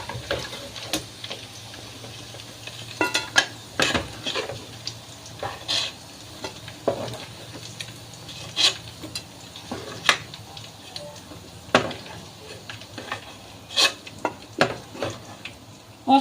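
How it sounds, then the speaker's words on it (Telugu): Chicken pieces fry in oil in a pan while being prepared for chutney, with a soft continuous sizzle broken by repeated scraping and clattering stirs at an irregular pace, close up. "మనకి ఇదనమాట చట్నీకి పర్ఫెక్ట్ చికెన్ ఫ్రై అయింది"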